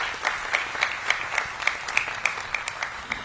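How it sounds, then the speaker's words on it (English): Scattered audience applause at an outdoor public safety walk in Ward 5, with rhythmic individual claps at close to medium range, fairly faint and steady, no talking over it. "let's give her another round of applause"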